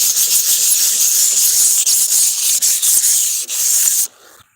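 A surface is sanded by hand at a detailing job, a loud, close, hissing rub in steady back-and-forth strokes with brief dips between passes, ending abruptly.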